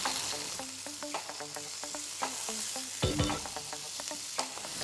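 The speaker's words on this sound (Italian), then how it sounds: "Intanto giriamo le nostre verdure e le facciamo rosolare per bene." Vegetables sizzle steadily as they brown in a hot pan while a utensil scrapes and clinks as it stirs, with a sharper knock near the middle.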